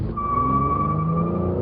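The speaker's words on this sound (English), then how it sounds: "If you get the V6 engine, it makes a lot of power." Car with a powerful V6 engine accelerates with a sustained, steady drone and a high whine, close and loud throughout without talk.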